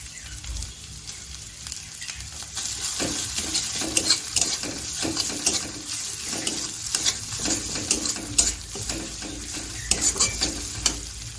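Onion, ginger and cumin sizzle steadily in hot oil in a Bengali kitchen as dried chili paste goes in, with bursts of crackling and spatula scrapes over a continuous frying hiss.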